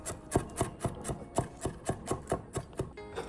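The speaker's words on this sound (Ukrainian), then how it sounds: "Все, що ми не можемо зараз тут дорізати, дорізаємо нашу цибульку." Onion being chopped with a knife on a board, about a dozen quick, evenly spaced close thuds in a steady rhythm, with no talking.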